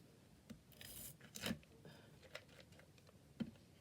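Paper being cut for the inside layer of a handmade card: a few soft, scattered snips and crisp rustles, one louder cut burst near the middle, faint and close with no talking.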